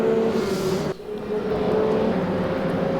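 Onboard engine note of a BMW touring car in the RaceRoom racing game on the Gelleråsen Arena circuit, a steady loud droning tone from inside the cockpit that dips briefly, as if on a gear change, and then resumes at full volume.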